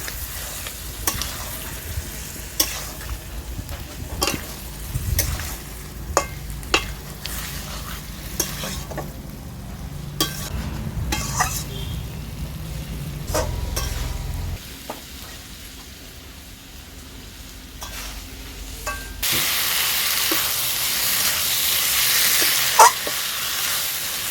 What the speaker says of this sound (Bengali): এবার মশলাটাকে কিন্তু আমি বেশ ভালো করে কষতে থাকবো